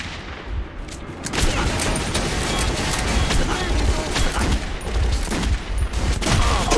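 Rapid video-game gunfire crackles in dense bursts aimed at the player in Metro 2033, with players talking excitedly over the shooting.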